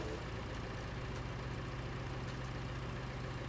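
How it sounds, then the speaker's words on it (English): A tractor engine in Farming Simulator 19, with a straw harvest bale shredder attached, idles with a low steady rumble. A few faint clicks sound over it, and no one speaks. "Start the engine."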